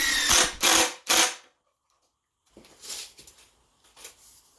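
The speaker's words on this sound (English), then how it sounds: "I'm just going to use a clamp to pull it together" Mechanical clamp ratcheting as it pulls a slightly wonky workbench board together, a few loud close ratchet bursts, a pause, then quieter clicking and shuffling of the wood.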